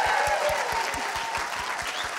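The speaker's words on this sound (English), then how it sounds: "So give a big round of applause to everybody nominated for the award tonight." Audience at the Scots Language Awards 2022 applauds the award nominees, a steady, dense wash of clapping that fills the room at even loudness throughout.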